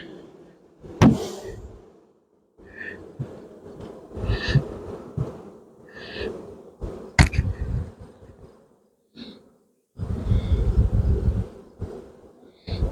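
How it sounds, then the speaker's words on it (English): Honeybees buzz around an open mating nuc hive, their droning rising and falling in bursts close to the listener, with occasional knocks and handling noises from the hive box. "Lots and lots of bees."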